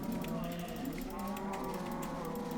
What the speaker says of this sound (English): cows are so loud in this version